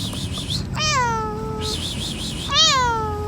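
A cat meows twice, close and clear. Each call is drawn out and wavering, with a short pause between the two.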